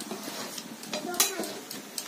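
A metal spatula stirs leafy greens frying in a pan, making quiet, irregular scrapes and light clinks over a soft sizzle.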